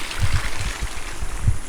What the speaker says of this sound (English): Tiny little waterfall.